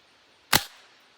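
A single sharp crack from a Crosman 1377 air pistol firing, close and loud, with a short decaying tail and quiet room tone around it.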